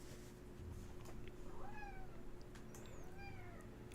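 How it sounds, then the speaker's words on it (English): A small cat meows several times in thin, rising and falling cries over a steady low hum, faint and a little distant, in a quiet room. "There's a little cat singing to us."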